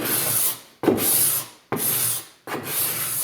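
Hand scraper drawn across an oak hardwood floor to remove edger marks, giving four close, rasping strokes of roughly a second each with brief pauses between, loud and alone.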